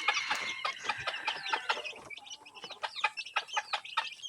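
Layer hens cluck and chatter in a busy chorus of short, overlapping calls and squawks, fairly close and continuous, with a lively, uneven rhythm.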